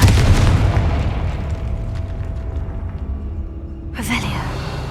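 A loud blasting spell explosion in Hogwarts Legacy opens with a deep boom, then a rumbling decay beneath a spoken voice, followed by a sharper magical burst near the end.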